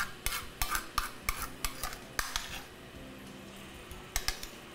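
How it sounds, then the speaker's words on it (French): A spoon stirs a cooking mixture of oranges and spices in a pan, giving a rapid series of clinks and scrapes against the pot, close and alone at first, then easing off into a soft sizzle. "Je vais mélanger un petit peu."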